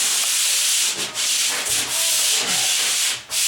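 Pole sander scraping abrasive paper over a drywall patch, a steady broadband rasping rub that runs almost without pause, with a few brief dips as the stroke changes direction.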